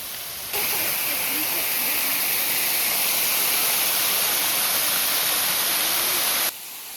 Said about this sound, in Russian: Водопадик, конечно, ничего особенного